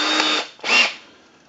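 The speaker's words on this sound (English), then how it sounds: "and we're going to drill" A power drill boring into a Briggs & Stratton small-engine carburetor, running in two short close bursts of high whining motor noise separated by a brief pause, then trailing off.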